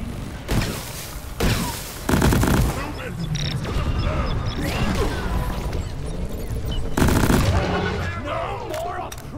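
Bursts of loud gunfire and crashing impacts from Deep Rock Galactic as players shoot bugs in a cave, recurring in heavy clusters with voices talking in between.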